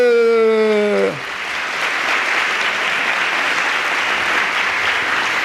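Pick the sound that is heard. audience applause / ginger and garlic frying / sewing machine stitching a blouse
audience applause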